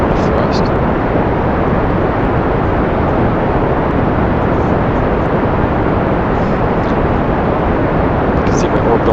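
Rocket engine burning in the video game Kerbal Space Program, a dense steady roar that stays loud and unbroken throughout, with no talk over it.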